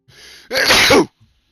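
A single sharp sneeze rings out loud and close after a short quiet inhale, then silence.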